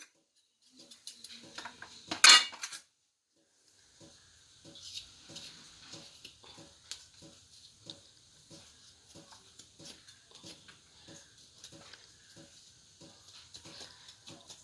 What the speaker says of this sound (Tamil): இப்படியே ஒவ்வொரு காயையும் வெட்டி வெட்டி சுத்தப்படுத்திக்கணும்.